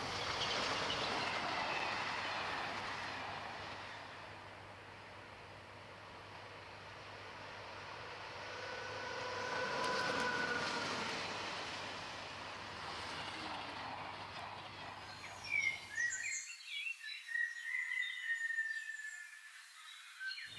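A 1944 convoy train rolls along the rails, a broad continuous rumble that swells and fades over some fifteen seconds before cutting off to faint scattered noises.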